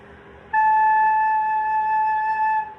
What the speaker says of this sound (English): so here's A. A should sound like this.